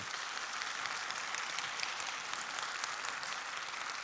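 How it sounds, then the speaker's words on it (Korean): At a church New Year prayer meeting, the congregation applauds to welcome a guest with steady, even clapping that carries on without a break and sounds somewhat distant. "우리 큰 박수로 환영해 주시기 바랍니다."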